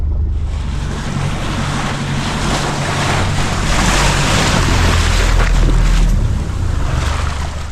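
A boat motors out from St Mary's toward a wreck site past Samson and Bream Ledges, with a loud continuous engine drone mixed with waves, surf and wind buffeting, and no talk.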